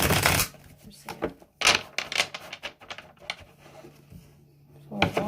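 Tarot cards shuffled by hand in short bursts of crisp riffling and rubbing, close and fairly loud, with quiet gaps between bursts and no talking over them.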